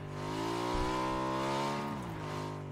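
A motorcycle engine in the video game PUBG hums steadily at high revs, close and continuous, with a brief dip and pitch shift partway through.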